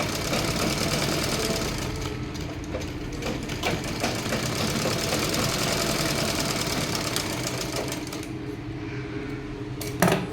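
A sewing machine stitches folded cloth with a steady, fast mechanical rattle that runs for about ten seconds and ends with a brief clunk.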